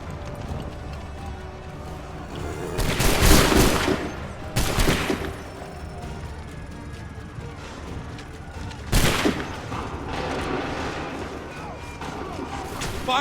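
Musket volleys in Assassin's Creed 3 Remastered on Xbox One, three loud crackling blasts spaced several seconds apart amid battle ambience, with horse hooves and shouted orders around them.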